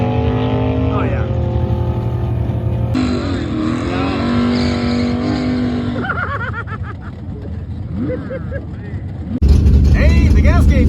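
A 1971 Dodge Demon with a 340 V8 idles at a drag strip on a hot day, its engine drone steady and loud throughout, with rev changes and a louder surge near the end; a person talks over it.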